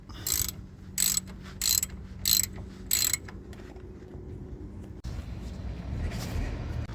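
Brake caliper bolts on a Peugeot 207 being tightened with a ratchet wrench during a disc and pad replacement: five quick ratcheting bursts, then a clunk and a steadier mechanical rumble, fairly close, with no talking.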